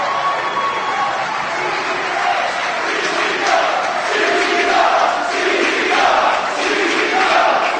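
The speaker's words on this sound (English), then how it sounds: "The fans, not so much cheering against Blackout, but cheering for Necro Butcher" Wrestling crowd at a CZW event cheering loudly for Necro Butcher, a steady roar of voices with rising shouts throughout, continuous and fairly close.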